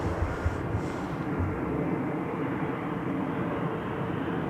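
An EasyJet airliner arriving from Copenhagen at Amsterdam Schiphol, heard as a low, steady engine rumble at moderate distance, fairly quiet and continuous with no voices.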